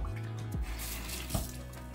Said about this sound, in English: And clean the sink out here. Got some tuna juice in it.